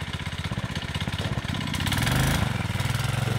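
An off-road vehicle with a roll cage chugs at a low, rhythmic idle close by, then revs up as the throttle opens before easing back to a pulsing, rougher beat.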